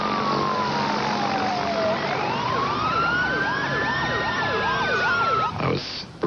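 Emergency vehicle sirens wail on an airport runway after a plane has landed without power: loud and close, a long rising and falling tone overlapped by rapid yelping sweeps, cutting off near the end.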